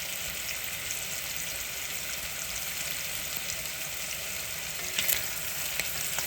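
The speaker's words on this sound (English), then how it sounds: "The pan looks a little dry to me, so I'm going to add a little bit more oil. To help that sausage brown." Sausage sizzles and fries in oil in a pan, a steady close hiss with a few louder pops and spatters near the end, no voices.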